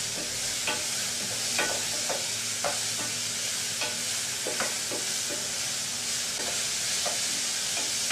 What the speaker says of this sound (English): we're going to mix the mushrooms and the courgettes together